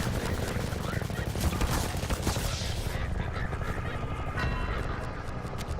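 Rapid bursts of enemy gunfire in a live-streamed video game, dense and loud, rattling continuously across the clip amid other game noise.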